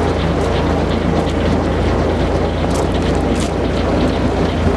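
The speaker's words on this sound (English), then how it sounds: "You're gonna ease it up so you can see the chain working." A Simonsen SMC1754 ground-driven feeder chain on a walking-tandem-wheel spreader runs steadily in a loud, continuous mechanical roar with a low rumble and gusty wind buffeting across the whole stretch.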